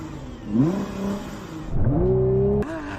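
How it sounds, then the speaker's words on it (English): Engines revving hard at a drag race launch of a Nissan GT-R NISMO, Lamborghini SVJ and BMW M5 CS, a rising roar that builds in two surges then cuts off abruptly. "BMW struggles for grip. GT-R launches clean. But the Lamborghini flies."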